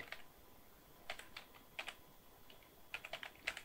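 A computer keyboard is typed on in short bursts of soft, close clicks separated by pauses, quiet and with no voices.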